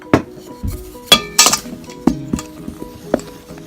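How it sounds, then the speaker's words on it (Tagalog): A utensil scrapes and clinks against a bowl while dry ingredients for ensaymada are mixed, giving a close, irregular series of sharp knocks and rattles with no talk. "Tapos haluin lang natin to mabuti."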